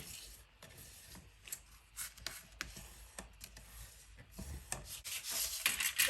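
Card stock scored and folded into a card blank, quiet scraping and rubbing strokes with soft taps, close and faint, gradually growing busier and louder toward the end.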